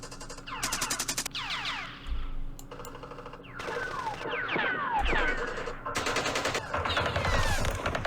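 Machine gun fire from the Vietnam War strategy game Campaign Series Vietnam, Battle of Hue: repeated rapid bursts of automatic fire with ricochet-like whines, mixed with dull low thumps, dense and continuous over eight seconds.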